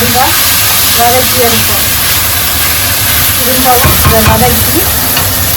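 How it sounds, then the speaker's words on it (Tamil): Drumsticks sizzle in hot oil in a pan for a drumstick gravy, a loud, close, steady frying hiss with occasional stirring scrapes, while someone talks over it. "இப்போ முருங்கைக்காய் நாங்கள் கொஞ்சம் வதக்கி வைப்போம்"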